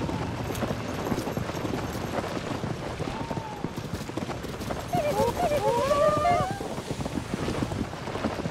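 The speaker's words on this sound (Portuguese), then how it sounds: "a gente prende a carroça aqui ao cavalo e segue aqui o caminho" A horse's hooves clip-clop steadily while pulling a cart along a path in Zelda: Tears of the Kingdom, a continuous rhythmic patter mixed with wind and game sounds, joined by a brief melodic tone.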